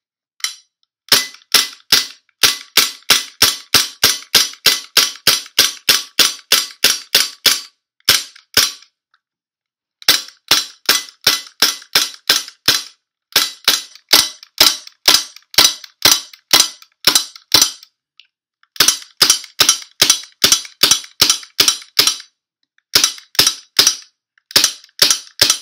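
Dry firing of a P99 and an HK USP gas blowback pistol: long runs of sharp, loud, rapid metallic snaps, about two per second, broken by short pauses, with no voices.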